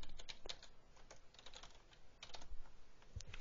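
Keys on a computer keyboard are tapped in quick irregular bursts while HTML is hand-coded, close and fairly quiet with short pauses between runs of clicks.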